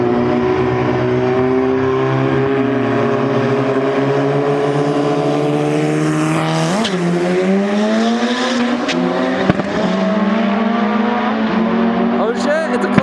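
Honda Civics, all-motor and turbo, drag race on a private track. A loud engine drone climbs steadily in pitch, breaks sharply at gear shifts and then climbs again, with some tire and wind noise.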